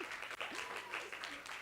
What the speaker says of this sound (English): Give me applause, please.